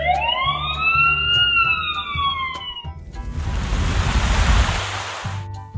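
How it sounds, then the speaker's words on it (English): A cartoon ambulance siren wails in rising and falling sweeps for a few seconds, then gives way to a loud rushing whoosh like surf, with a low rhythmic tone underneath. "The ambulance is here."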